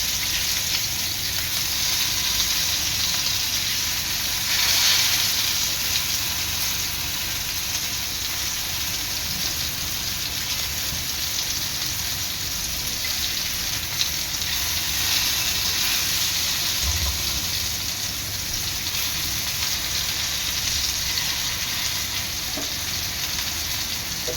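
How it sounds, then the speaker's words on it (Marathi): Stuffed prawns shallow frying in a pan, turned so both sides brown, give a steady, loud, close sizzle with bright hiss. It runs unbroken throughout, with no talk. "अशा प्रकारे सर्व कोंड्यांनी दोन्ही साईडने खरपूस रंग येईपर्यंत तळून घेणार आहे"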